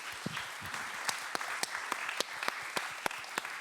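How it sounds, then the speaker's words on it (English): Scattered audience applause at a keynote and panel discussion on digital life, heard as a thin patter of a few distinct, separated claps over a quiet room with a brief low voice early on. "I think we need to applaud for our program team to make this happen, and to Frank."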